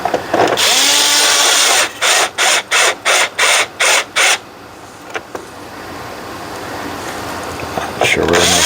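A ratcheting driver clicks in a quick run of six evenly spaced bursts while a screw is driven in to fasten the lens cover on a Ford PATS part, followed by a few softer taps and handling noises.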